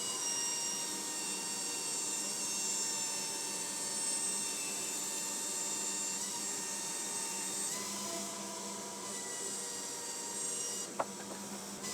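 A woodworking bandsaw hums steadily at close range while freehand rip cuts are made in wood, a continuous whine with dense cutting noise throughout and a brief knock near the end.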